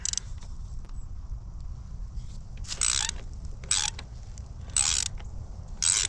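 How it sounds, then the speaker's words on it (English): 8mm wrench ratcheting on the doohickey bolt of a 2022 Kawasaki KLR 650, close up, in about four short bursts of rapid clicking separated by quiet pauses. "you're going to take your 8mm, going to put on the doohickey bolt right here,"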